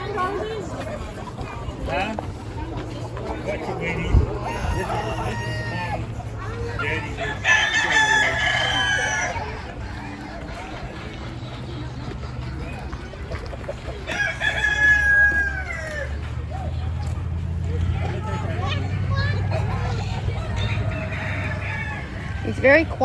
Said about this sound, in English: Ooh, chickens.